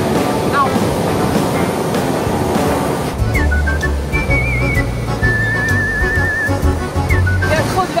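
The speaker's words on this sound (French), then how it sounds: "Il y a trop de vagues." Ocean waves wash loudly onto a beach in steady broadband surf noise, with wind buffeting the microphone, a few whistle-like tones and faint voices underneath.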